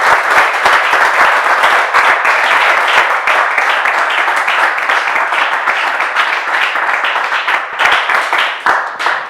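Loud, dense applause from a studio audience on a talk show, rapid overlapping clapping sustained at full strength for several seconds before tapering slightly at the end.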